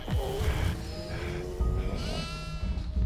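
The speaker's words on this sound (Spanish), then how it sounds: "Aquí hay dos cabras." Two goats bleat in the horror video game Devour, several wavering cries close by with a low game ambience underneath and no talk.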